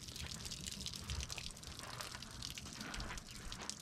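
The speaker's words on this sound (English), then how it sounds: "It was dripping right down on top of the generator." Water dripping off an RV slide topper onto the generator below, a steady patter of drops spread over constant close wet noise with no one talking.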